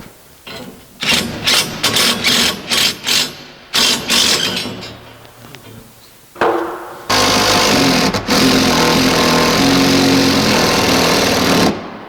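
A power driver sends a lag screw through a flat steel barn door track into the wall, first in a series of short choppy bursts, then in a long steady whir near the end.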